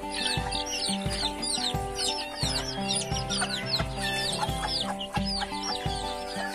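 Chickens cluck repeatedly and close by, a busy flock of short clucks and squawks with higher chirps, steady throughout with no talking.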